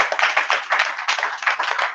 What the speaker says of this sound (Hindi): तो एक बार इस टीम के लिए वो जोरदार तालियां।